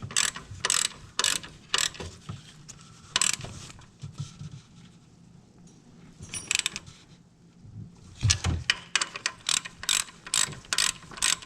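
A hand ratchet clicks in rapid bursts while tightening a bolt during a timing belt job on a 2011–2019 Ford Fiesta, with a quieter pause midway before the fast ratcheting resumes, close and crisp, with no talking.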